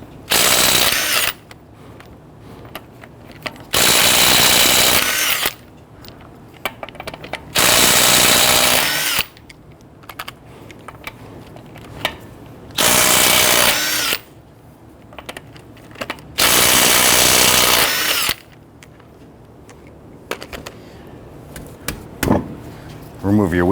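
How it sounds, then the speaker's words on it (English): A power tool with a 21mm socket whirs in five or six loud, close bursts of a couple of seconds each, separated by quieter gaps, while lug nuts are loosened on a Nissan Quest wheel. "Using a 21mm socket, loosen and remove your lug nuts."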